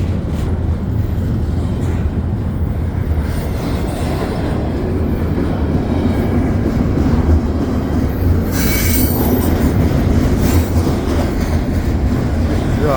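Westbound CPKC intermodal freight train headed toward Toronto rolls past close by at Dorval on a winter night, a loud steady rumble of railcars with wheel squeal and brief bursts of high screeching, no talk.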